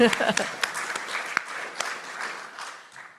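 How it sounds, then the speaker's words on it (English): A church congregation claps at its annual meeting, a short, moderate patter of hands that thins out quickly, with a voice speaking over it. "oh, we're clapping for her"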